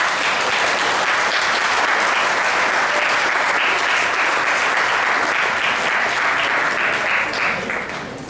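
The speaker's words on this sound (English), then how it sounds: "give them a big round of applause" A large audience at a school science awards ceremony claps continuously in a dense, sustained round of applause that fades slightly at the end.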